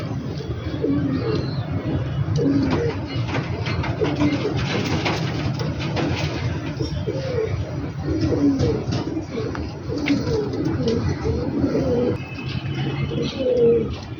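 A pair of Silkoti Choha pigeons coo close by in repeated, rolling low calls that carry on steadily over a soft background murmur, with no one speaking.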